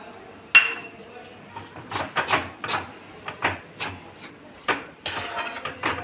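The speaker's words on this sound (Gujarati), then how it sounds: "હવે આપણે ક્રશ કરેલા કાજુ બદામ ઉમેરીશું" Crushed cashews and almonds tipped into melting jaggery for soft sukhdi, then stirred with a utensil: a run of uneven scraping and clinking strokes against the pan, moderately close, with no talk.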